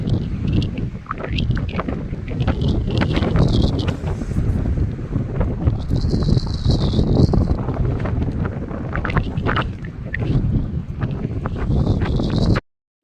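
Strong gusting wind on a high Himalayan trek at Lamatop, Uttarkashi, buffets the microphone continuously, a loud roaring rush with flapping bursts from prayer flags, before cutting off abruptly at the end.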